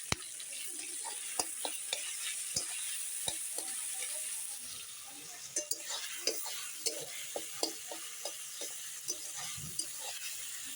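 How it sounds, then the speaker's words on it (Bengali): Chopped tomatoes frying in oil in a pan, a soft steady sizzle punctuated by sharp spatula taps and scrapes as they are stirred, fairly quiet and close. "টমেটো কুচিটা একটু ভালো করে ভেজে নেই"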